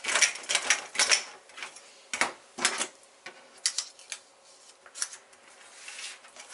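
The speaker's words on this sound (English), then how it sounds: "I'm just going to cut my seam allowances on either side" Scissors cut seam allowances on paper-pieced fabric, giving a series of separate crisp snips in uneven rhythm, close and fairly quiet, with short pauses between cuts.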